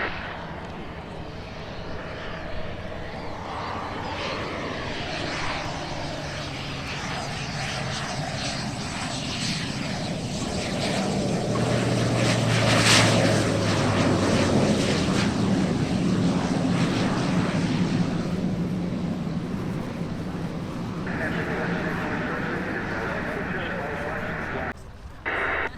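A light propeller airplane comes in to land at Oshkosh during the EAA AirVenture Cessna mass arrival, its engine drone swelling to a close, loud pass amid wind noise, with tower radio talk throughout.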